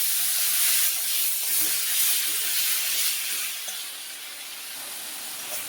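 Panch phoron spices sizzling in hot oil while cooking a silver carp fish curry with tomato, a steady bright hissing crackle that slowly eases, close and without talk.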